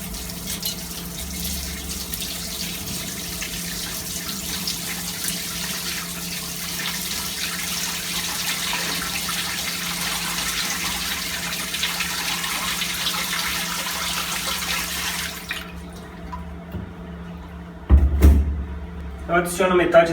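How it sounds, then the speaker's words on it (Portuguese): Cold sparge water for homebrewed American wheat beer flows steadily into the mash, a continuous rushing pour that lasts about fifteen seconds, then stops, followed by a few clunks and handling sounds. "Eu adiciono metade da água"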